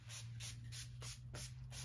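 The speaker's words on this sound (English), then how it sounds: "let's use this NYX Matte Finish Spray" Several quick hissing bursts of a NYX Matte Finish makeup setting spray, about six short even pumps in a steady rhythm, close by over a low hum.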